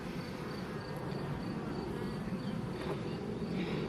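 Honeybees at an open hive with fresh brood frames drone in a dense, steady buzz of many insects, close and continuous without a break.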